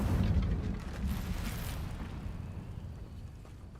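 An Incendio fire spell in Hogwarts Legacy lets out a deep whooshing boom that is loudest at the start, then rolls on as a fading rumble with a faint crackle.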